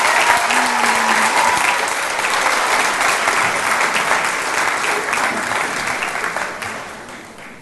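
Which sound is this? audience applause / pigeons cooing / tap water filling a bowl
audience applause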